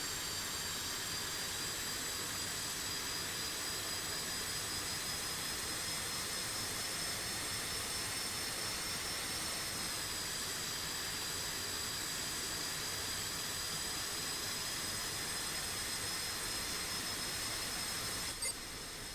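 An F-5E Tiger II jet in DCS World taxis with a constant loud turbine roar and a high steady whine that shifts slightly in pitch partway through, droning on without a break.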